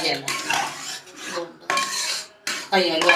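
Jackfruit preserve is stirred with ghee in a heavy pot, the ladle scraping and clattering in several distinct strokes separated by short pauses, with a few brief words spoken.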